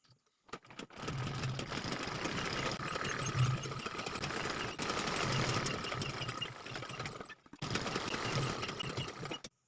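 Sewing machine stitching the side seams of a choli blouse, its motor whirring in quiet sustained runs with short stops between seams.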